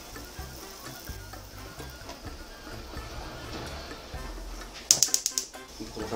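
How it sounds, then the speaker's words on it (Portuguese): Mortadella finely chopped with a knife during cooking, soft irregular tapping through most of the clip, then a quick run of sharp, louder knife strikes near the end. "Vou picar bem picadinho."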